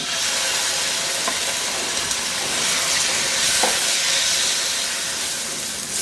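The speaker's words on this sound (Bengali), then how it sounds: "আমি চুলা একটা কড়াইয়ে 2 চা চামচের মতো তেল গরম করে তার মধ্যে এই মুরগিগুলোকে দিয়ে একটু ভেজে নিব" Chicken pieces frying in a little hot oil in a wok produce a constant close hiss and sizzle, with a few faint clicks and pops and no speech.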